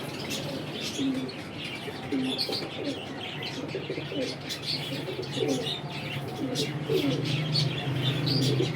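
Pigeons at a loft or breeding setup coo softly and repeatedly with occasional chirps and a brief flutter of wings, layered over steady background noise and faint human voices nearby.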